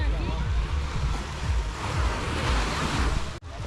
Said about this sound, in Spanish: Fijaros qué bonito está el mar,